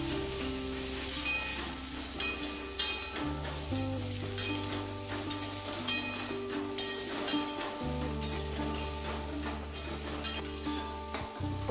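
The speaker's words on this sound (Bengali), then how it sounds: "বাকি তেলে ফুলকপিগুলোকে ভেজে নেব" Cauliflower pieces fry in oil left over from frying fish, giving a continuous sizzle broken by repeated scraping and clinking strokes of stirring, with a steady tonal hum beneath.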